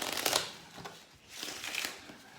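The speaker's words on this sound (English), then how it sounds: "You can do a riffle shuffle like this." A deck of playing cards is riffle shuffled, giving two quick fluttering bursts of cards interleaving, close and crisp, separated by a brief lull.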